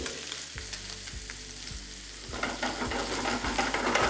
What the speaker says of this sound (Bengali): আর পনিরটা আমি এখানে ডাইরেক্টলি দিয়েই দিচ্ছি